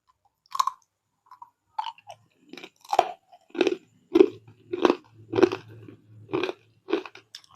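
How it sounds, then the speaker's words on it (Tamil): Crunching and chewing of crispy fried ribbon pakoda, a Diwali snack, with sharp close bites followed by a steady run of about ten loud crunches in a quiet setting. "ரிப்பன் பக்கோடா சாப்பிட்டு பார்க்கலாங்க"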